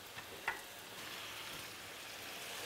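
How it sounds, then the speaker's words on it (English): Dried salted cod sizzling in a pan with potatoes and mushrooms: a soft, steady frying hiss with a couple of small pops near the start, faint and even throughout. "now they start to fry"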